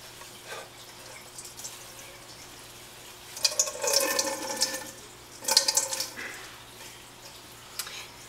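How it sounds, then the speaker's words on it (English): Rinse water is pressed out of wet, freshly dyed yarn, giving two short bursts of splashing and dripping water over a quiet background, with no speech. "press the rest of the water out of the yarn."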